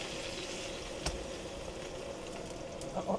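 A burger patty fries in a pan with a moderate sizzle and bubbling. A few sharper crackles and pops come through near the end, and no one speaks.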